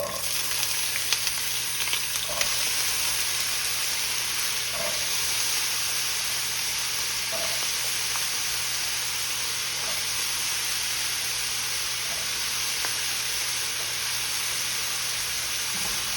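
Boiled Idaho potatoes frying in a skillet for corned beef hash, a steady loud sizzle and hiss close by with a few faint clinks early on.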